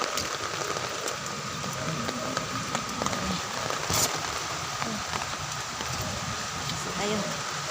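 Steady rain pours down over a vegetable garden during a harvest of malunggay and other greens, a dense constant hiss with scattered drops throughout, while people talk in the background.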